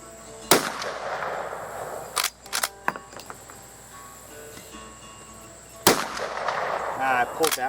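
Shots from a Rossi R92 lever-action rifle chambered in .45 Colt on an outdoor range: three sharp, loud reports with gaps between them, the middle one followed quickly by mechanical clacks, and faint background noise throughout.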